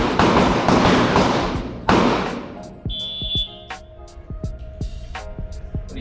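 Gunshots from firearms rounds on a shooting range during instructor training: a few sharp, loud cracks with echoing decay, the first ones close and heavy, later ones lighter and more spaced, over a faint steady electronic tone.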